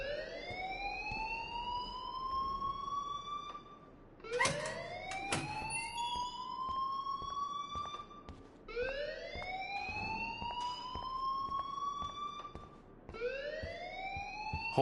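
An alarm in the Life is Strange video game wails in a rising siren tone, repeating in three long, steady cycles at a constant level with no voices.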